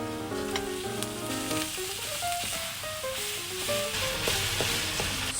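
Meat for a homemade lasagna meat sauce frying in a pan, a steady close sizzle under background music, no talking.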